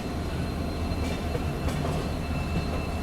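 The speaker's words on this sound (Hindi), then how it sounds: "ऐसा लगभग 180 डिग्री ट्रेन यहाँ पर घूम जाती है।" Dibrugarh Rajdhani Express rolling steadily through a near 180-degree curve, a continuous close rumble of wheels and carriages with faint higher metallic tones, no voices.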